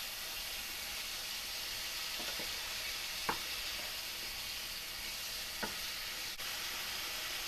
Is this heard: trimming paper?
no